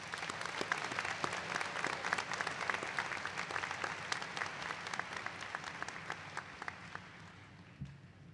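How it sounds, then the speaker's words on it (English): Sustained audience applause at a health sciences and biomedical sciences college commencement for the graduating class of 2023, dense steady clapping that fades out toward the end. "Let's have another round of applause for this class."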